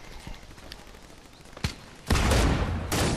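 Fortnite video game gunfire cracks in a few sharp single shots before a louder burst of rapid fire near the end, with game noise underneath.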